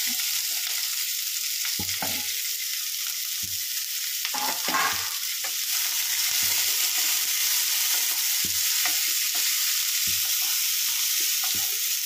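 Green chilli, onion, capsicum and beans sauté on high flame, giving an even, bright sizzle throughout with occasional soft stirring knocks and scrapes beneath it.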